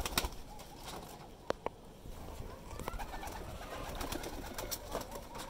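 Flying-breed pigeons kept with their young coo softly and steadily in a loft, with a few wing flaps and sharp clicks over constant background hiss, close but quiet.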